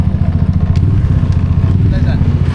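Motorcycles on a road trip, heard as a loud, steady low engine rumble with a regular pulsing throb throughout, close by, with a voice talking over it.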